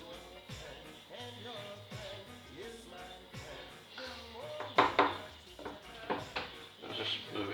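Chicken fillets pushed around a pan, with repeated scrapes and clinks of utensil against metal and a soft background sizzle, close and moderately loud, with no talk.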